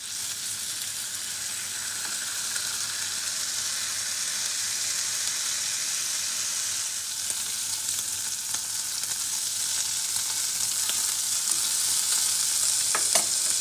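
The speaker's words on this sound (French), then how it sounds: "Dans une poêle chaude avec une cuillère à café de matière grasse, je vais mettre à griller le lard." Bacon lard sizzles steadily in a hot pan with a teaspoon of fat, a dense continuous frying hiss with occasional sharper pops near the end, no voices.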